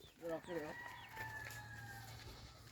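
A rooster crows near the start with a few clucks, followed by a lingering call and faint background noise.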